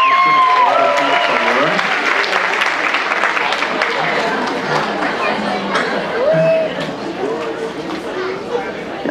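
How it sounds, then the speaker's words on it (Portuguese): A crowd applauds at the award ceremony of a diocesan dance showcase, sustained dense clapping throughout with chatter and a few voices rising over it, tapering slightly toward the end. "Palmas!"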